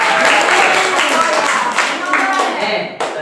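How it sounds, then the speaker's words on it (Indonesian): Classroom applause for a student group discussion, a few seconds of hands clapping together at close range that thins out and tapers off, with voices in the room underneath. "tepuk tangan"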